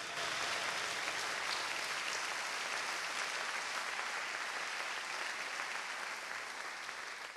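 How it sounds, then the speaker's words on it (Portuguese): Loud, sustained applause from a large crowd at a church service, a dense continuous roar of clapping that holds steady throughout. "Se vai aplaudir, faz melhor, Pai Jesus."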